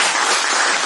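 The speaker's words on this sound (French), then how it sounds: "Je voudrais bien qu'on applaudisse." Audience applause at a former students' reunion for an old lycée, a dense, steady wash of clapping from a crowd filling the whole moment at full, even loudness.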